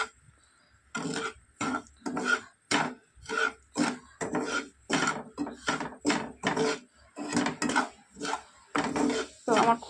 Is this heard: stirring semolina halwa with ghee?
yes